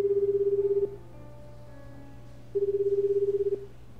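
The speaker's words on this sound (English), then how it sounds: "The phone rang several times before it went to voicemail." An unanswered phone rings in the 428 Shibuya Scramble video game, two clear electronic ring bursts about a second long separated by a quiet gap, over a low steady hum.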